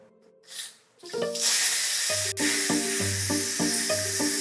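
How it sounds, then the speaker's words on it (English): Pressure valve on an Instant Pot cooking Japanese curry is knocked open with a wooden spoon, releasing a sudden loud, continuous rush of hissing steam with a rhythmic rattling pulse underneath. "So we're just gonna let that steam out."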